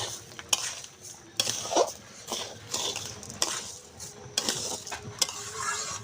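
Dry masoor dal (red lentils) being roasted in a pan without salt or turmeric, with repeated metallic scraping and clinking strokes of a spoon over a faint sizzle, coming in a rhythmic series of sharp clatters.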